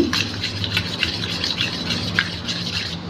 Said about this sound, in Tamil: இப்போ இதில் பாருங்கள் காய்ச்சி ஆற வச்ச பால் கொஞ்சமாக ஊற்றி நல்லா இப்படி மிக்ஸ் பண்ணிக்கோங்க